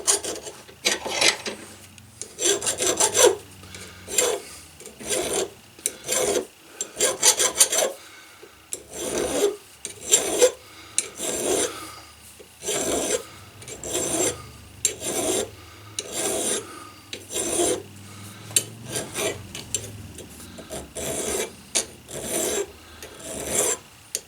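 A hand file rasps across the rounded areas of a budget leathercraft hammer head in repeated back-and-forth strokes. The scraping is close and fairly loud, with short pauses between bursts.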